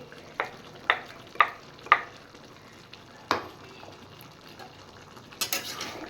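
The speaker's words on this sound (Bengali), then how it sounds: "এবার আমি দিয়ে দেব পেস্ট করে রাখা রসুন আর আদা" Chicken with onion cooking in a pan as ginger and garlic paste goes in, with a faint sizzle under several evenly spaced clinks and scrapes of a spoon against the pan.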